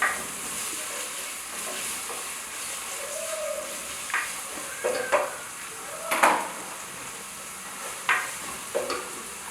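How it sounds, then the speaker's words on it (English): Onions fry in a pan with a soft steady sizzle while a utensil scrapes and clinks against the pan in several close, irregular bursts of stirring. "So put in the onion, and let them cook till they are translucent."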